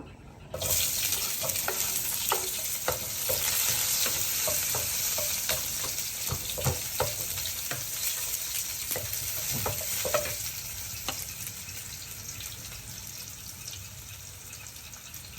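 Garlic fries in a pan with a steady crackling sizzle. A utensil stirs and scrapes it in scattered knocks, and the sound runs continuously at moderate loudness.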